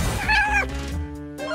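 A cat meows once in a drawn-out, rising-then-falling call, close and fairly loud, with a fainter tonal tail after it.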